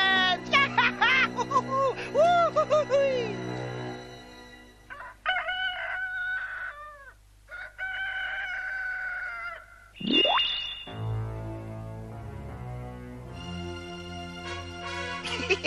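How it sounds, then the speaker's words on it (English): Cartoon chickens and a rooster in a 1987 animated Golden Book production cluck, squawk and crow in a busy, close series of calls. Bright, wavering cries are separated by short pauses, ending with a rising squawk and a low rumble. "No more chickens!"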